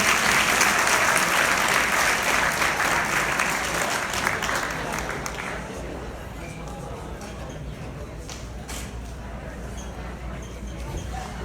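A school sports banquet audience applauds the junior boys soccer team. Dense, loud clapping fills the first several seconds, then thins and fades into quieter room noise with scattered claps.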